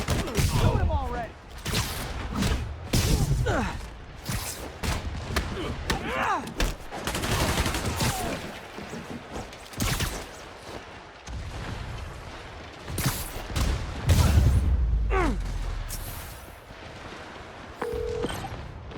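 Gunfire during a boss fight in the Spider-Man PS4 remastered video game, scattered shots and bursts mixed with game dialogue and effects through the scene.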